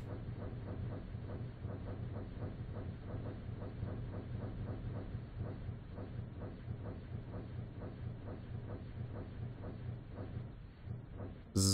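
Minecraft train running on rails, a steady rhythmic clickety-clack under a constant low rumble, continuous and moderately faint throughout.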